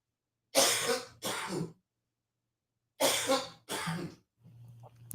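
A person coughs and clears their throat in two harsh pairs of bursts separated by a pause, close and loud, followed by soft breathing.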